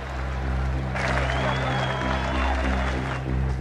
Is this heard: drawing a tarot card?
no